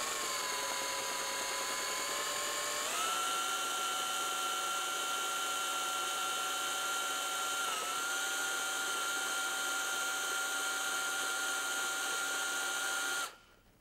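A cordless drill spins a 90-degree, 13.4 mm deburring tool to countersink the valve hole in a wheel rim, giving a loud, steady motor whine that shifts pitch slightly at two points before stopping abruptly.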